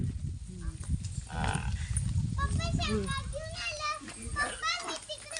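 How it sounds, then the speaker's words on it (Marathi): Buffaloes low on a village farm, several drawn-out moos rising over the chatter of children talking nearby. "पप्पाच्या म्हशी हे बघा"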